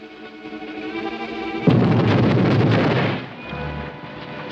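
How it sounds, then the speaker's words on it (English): A sudden loud blast goes off beneath a bank in a 1945 Charlie Chan film, a dense roaring burst that cuts over the music score, holds for about a second and a half, then subsides as the music returns. "Explosion. Beneath bank."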